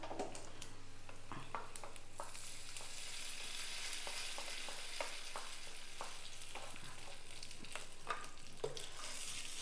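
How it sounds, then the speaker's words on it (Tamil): Browned onion tempering hitting groundnut chutney gives a steady, moderately quiet sizzle with scattered sharp crackles and pops, heard alone with no talking. "இப்போ நான் இதை தாளித்து கொட்டிடலாம்."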